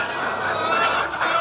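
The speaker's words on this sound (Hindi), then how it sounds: "ये हमारी सोनाली मुर्गी है, लेयर वाले।" Sonali layer hens on a poultry farm with a nipple drinker system cluck as a flock, a dense, continuous, close chatter of overlapping calls with no pauses.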